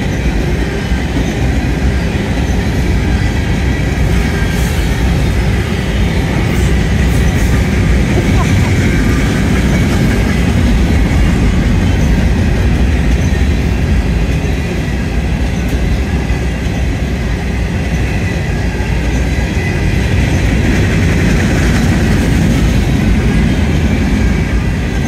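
Southbound CSX mixed manifest freight train on track two rolls past close by, a loud continuous rumble of rail cars with clickety-clack and occasional wheel squeal throughout.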